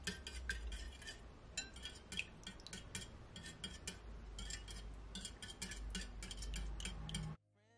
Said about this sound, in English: You just wanna whisk it.